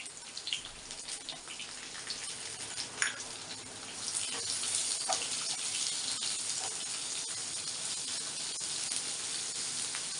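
Chopped onion goes into a hot pan with crushed garlic for a tapioca curry and starts sauteing, a steady close hiss that swells louder after a few seconds and keeps crackling softly with no talking.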